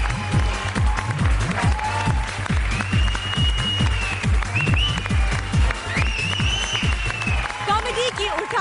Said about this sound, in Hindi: ये जोरदार तालियां राखी और शाना के लिए